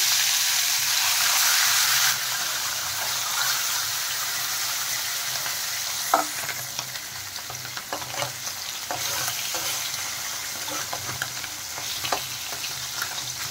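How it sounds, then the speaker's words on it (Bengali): Fish frying in hot mustard oil, a steady loud sizzle throughout with scraping stirring strokes and bubbling crackles building in the second half, no talk. "এখন আমি মাছগুলো দিয়ে দিলাম তেলের মধ্যে।"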